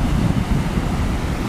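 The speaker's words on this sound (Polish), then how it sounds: "Taki wodospadzik na sam wstęp." Small waterfall at the start of a mountain trail up Nosal near Zakopane in the Tatra mountains, heard as a steady, close rushing of water with no let-up.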